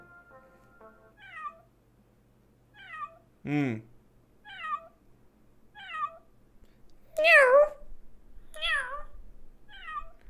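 A person repeatedly imitates a cat's meow, several short rising-falling mews spaced across the clip, with a louder, longer one near the middle.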